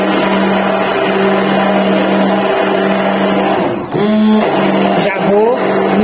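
A stick blender whirs loudly and continuously while mixing homemade mayonnaise, its motor pitch dipping and sliding briefly as the blade moves through the thickening emulsion.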